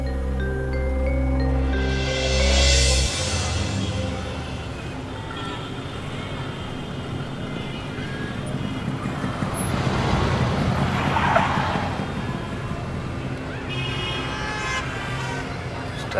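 Steady roadway din from passing cars and trucks on a busy street, continuous and loud, with a horn-like tone near the start and a vehicle swelling past later, voices faint beneath.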